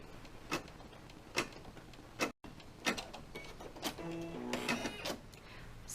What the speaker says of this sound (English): I have the design already loaded on my machine, and we will be doing the placement stitch.